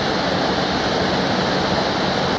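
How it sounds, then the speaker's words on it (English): Water pouring over the V-shaped weir on the River Avon in Bath, a dense, continuous broadband rush that stays steady and loud throughout, with no voices. "The River Avon, with its V-shaped weir, adds a lot to the character of the city"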